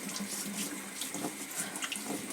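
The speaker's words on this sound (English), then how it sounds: "So, just draining the water occasionally." Water runs and gurgles steadily down a kitchen sink drain while tumbled rocks are rinsed, a soft continuous splashing close by with no talk.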